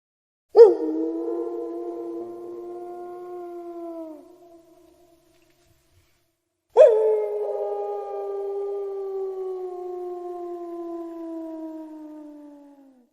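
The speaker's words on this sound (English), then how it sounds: "the mysterious wolf is not far behind. When the moon is up, you can hear its haunting howl." A wolf howls twice, each call a long, sustained, slowly falling tone lasting several seconds, separated by a pause of silence, clear and alone with no talk.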